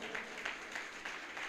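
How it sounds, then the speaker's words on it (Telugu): A church congregation claps loudly together in a dense, continuous wash of applause throughout. "గట్టిగా చప్పట్లు కొడదామా?"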